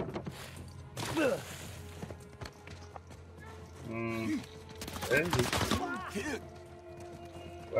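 Gunfire in the Uncharted 4 classic-mode multiplayer match, a few short bursts of shots and impacts mixed with footsteps and game effects, with a person talking over parts of it.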